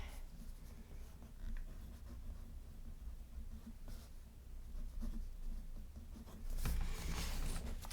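A pen writes in a Hobonichi Cousin planner, a faint, steady scratching of nib on paper running throughout at close range, with a slightly louder burst of strokes near the end.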